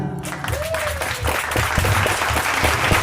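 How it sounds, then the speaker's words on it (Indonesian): Audience applause at a Sundanese-language speech contest at an Islamic boarding school, a dense, steady burst of clapping from a crowd that carries on through the whole stretch, with a brief tonal whistle near the start. "Ya, tepuk tangan."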